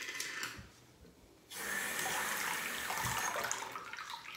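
Water runs from a bathroom tap during a wet shave, a steady rushing hiss that starts after a quieter moment and flows on continuously, fairly close.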